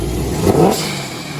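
A 1,000+ horsepower car engine revving as the car pulls out of a driveway, a loud, close throaty rise that swells briefly and then settles back to a rumbling idle.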